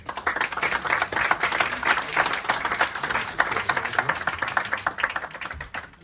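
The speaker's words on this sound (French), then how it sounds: "Des applaudissements pour David Marmier, s'il vous plaît" Film screening audience applauding, a lively crowd of hands clapping with distinct individual claps audible in the mix, fairly close and sustained before tapering off.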